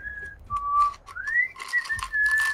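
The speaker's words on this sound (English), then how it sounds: "Stop whistling," A person whistles a short tune of several melodic notes, some held and one sliding upward, fairly clear over faint background noise and clicks, with no speech.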